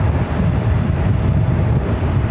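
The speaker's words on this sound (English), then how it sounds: "The flight taken off was an Airbus A220-300 heading to Minneapolis" A dense, loud engine roar from an Airbus A220-300 taking off from JFK toward Minneapolis, a short continuous blast with no talk over it.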